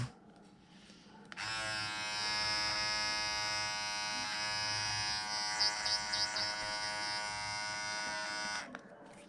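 A Philips MG7770/15 electric hair clipper buzzes steadily at close range for several seconds, with a high whining hum that starts abruptly and cuts off near the end.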